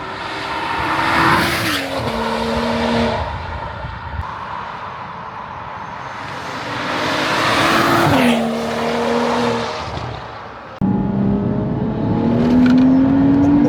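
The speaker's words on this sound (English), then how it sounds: "when you pulled up and I was hearing the beefy engine" A tuned 570 bhp BMW 135i with an N55 engine revs loud and close in repeated swelling pulls, its note climbing and falling with some tire-squeal-like whine; a final sharp rise closes the sequence.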